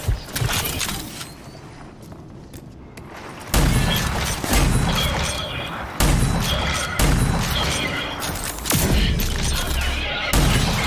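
Gunfire from the shooter game Rage 2, with dense loud bursts of shots and booms in repeated volleys, broken by brief lulls.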